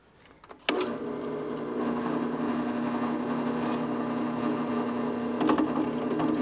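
A drill with a 1/4 inch bit bores steadily through metal during a shop build, a continuous loud whirring grind that starts abruptly and runs without pause, with a brief surge near the end.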